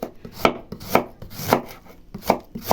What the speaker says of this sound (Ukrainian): Зараз ріжу, вона обжариться.